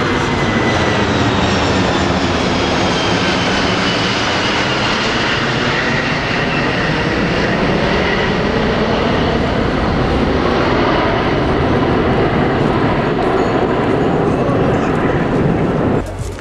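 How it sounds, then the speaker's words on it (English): A propeller airplane flying low, about 500 feet, over a harbour town: a loud, steady engine drone that fills the whole stretch, rising and shifting slightly in pitch as it passes close overhead. "planes fly 500 foot above this harbour and straight over the whole of the town."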